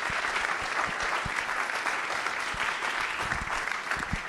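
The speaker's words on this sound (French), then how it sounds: "merci beaucoup, applaudissements" A conference audience applauds after a talk at an entrepreneurship event in Paris, producing steady, dense clapping from a sizable crowd, loud and sustained throughout with no speech.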